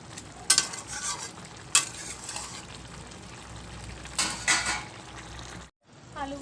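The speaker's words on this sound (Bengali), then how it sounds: "ভালোভাবে নেড়ে চেড়ে সেদ্ধ করতে দিয়ে দেবো।" A banana flower curry with potatoes is stirred while it boils, giving repeated scraping and clattering strokes of a spoon against a pot over a steady bubbling simmer. A brief pause comes near the end.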